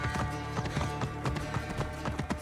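Rhythmic hoofbeats of a galloping horse in Assassin's Creed Origins, quick close clip-clops layered over a musical game score.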